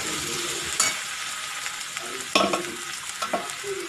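Egg fried rice being stirred together in a hot pan, with continuous close sizzling and several sharp spatula scrapes and knocks at irregular intervals.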